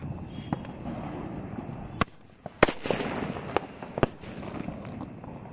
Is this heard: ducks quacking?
no